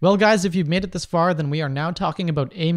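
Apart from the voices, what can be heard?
None of the usual background noises is heard.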